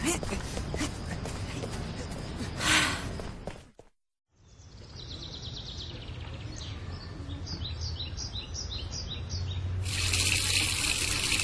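Shower water running: brief voices and noise open the clip, then a steady hiss of spraying water settles in with faint chirping over it and grows louder near the end.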